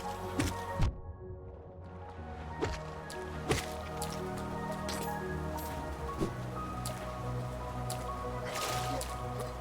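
Rain pours constantly in the City of Tears in the Hollow Knight video game, with steady dripping and splattering drops over a soft wash and game ambience, with occasional sharper drips.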